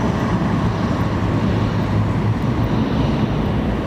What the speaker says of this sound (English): Here's another one that's going to rumble that 747 when it rolls past this